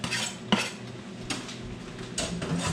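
Herbs going into a pot of smoked beans, with a few sharp clinks and scrapes of a utensil against the cookware over a low steady background, no talk.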